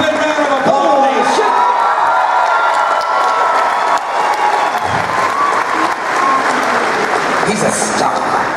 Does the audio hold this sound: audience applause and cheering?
yes